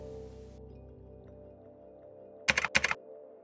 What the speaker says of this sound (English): press the U on the keyboard twice